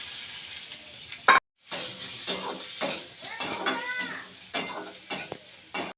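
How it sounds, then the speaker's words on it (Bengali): Chopped onion and garlic fry in oil over dried red chilli and bay leaf, a low sizzle punctuated by frequent clattering stirs and scrapes of a utensil against the pan, close by and without speech. "এরপর পেঁয়াজ কুচি এবং রসুন কুচি দিয়ে দিলাম"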